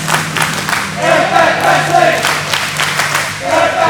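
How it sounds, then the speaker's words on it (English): Wrestling crowd at an APAC Wrestling show chanting in rhythmic swells, loud and reverberant, with cheers and shouting rising and falling across the arena. "The crowd chanting APAC Wrestling."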